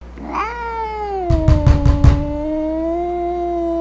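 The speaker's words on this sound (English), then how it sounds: "my cat just hit my door" A cat yowls in a long, drawn-out wail while a rapid burst of four or five loud knocks bangs against a door, close and sharp, the cry continuing after the thumps.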